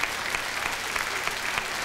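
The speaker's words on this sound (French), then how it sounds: "on va prendre des applaudissements," Studio audience applause on a French television talent show after a young girl sings a song; brief, even, sustained clapping at a steady moderate level.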